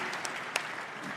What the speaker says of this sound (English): Gianni, yes, deserve a round of applause, really.